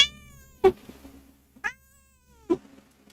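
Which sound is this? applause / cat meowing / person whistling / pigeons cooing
cat meowing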